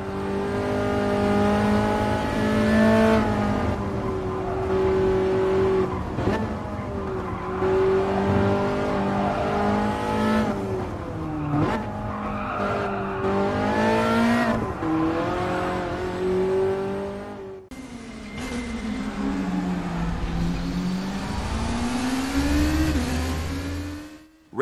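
Simulated race cars roar through a VR racing game, engines revving and shifting continuously at high volume with rising and falling pitch sweeps, no talk over the steady motorsport audio.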